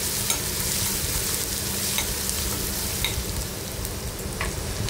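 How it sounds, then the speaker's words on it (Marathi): Crushed ginger, garlic and chilli sautéing in a pan for a cabbage masala, giving a steady close-up sizzle with occasional stirring scrapes throughout. "आता हे आलं लसूण ठेचून घेतलेलं आहे ते घालते। तर परतून घेऊया व्यवस्थित।"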